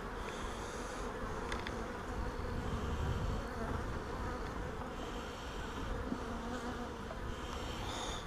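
Honeybees buzz steadily around an open hive during queen rearing, a dense, continuous hum with a few individual bees droning closer and louder now and then.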